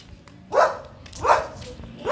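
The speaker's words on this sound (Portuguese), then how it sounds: "Quieto, cachorro, tô jogando." A dog barks three times in close succession, fairly near and moderately loud, each bark short and sharp over a quiet background during a gaming session.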